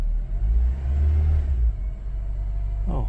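A 2007 Honda Civic engine that had been misfiring and hesitating runs with a steady low rumble, loud and close, with no voices over it.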